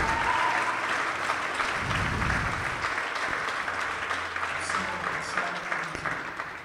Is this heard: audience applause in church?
yes